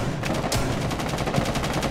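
Rapid pistol gunfire in the video game Rainbow Six Siege, a steady train of sharp shots at an even rhythm across the whole moment, loud and dense with no talk over it.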